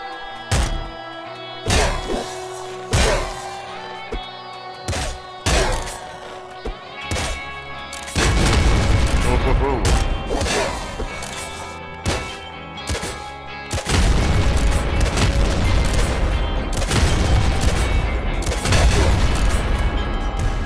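Explosions in the Nuclear Throne video game, several sharp booming blasts in quick succession under game music, then denser continuous rumbling bursts filling the second half, loud and close.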